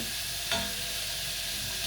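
Calamari fry in hot oil in a pan, a dense, steady sizzling hiss close up, with a brief stir or clink partway through.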